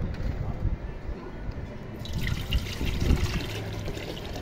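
Water poured into a pot to start brewing kahwa, a steady, close trickle and splash of liquid filling the vessel for a few seconds.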